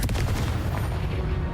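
A Confringo explosive spell in a wizard video game, a loud booming blast with a dense low rumble that keeps rolling for the whole moment, close and heavy, with no talking over it.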